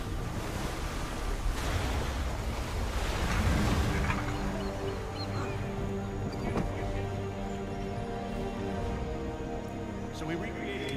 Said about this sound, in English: So we recreated the oceans of the 18th century, complete with beautiful vistas and a weather system that can change at any moment into heaving swells and pounding rain